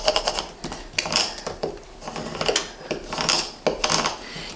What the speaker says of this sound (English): Then I'm going to use a scraper.